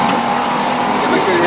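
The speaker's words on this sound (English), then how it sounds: "Let's pull the generator." A portable generator runs close by with a loud, steady, broadband mechanical hum that holds constant throughout the short stretch.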